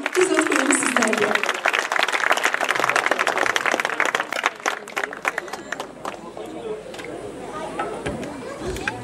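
Audience applause at an outdoor evening concert at Sığacık castle, dense clapping from a crowd that thins into scattered claps and murmuring chatter.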